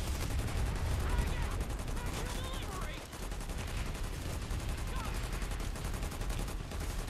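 Sustained Planetside 2 gunfire rattles without pause as a player defends a station, dense overlapping shots from several weapons layered into a constant loud barrage.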